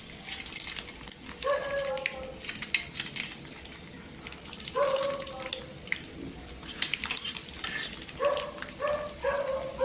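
Eggs fry on a hot tawa with a faint, crackling sizzle, broken by a few short metallic pings and scrapes. The sounds are fairly quiet and nobody speaks.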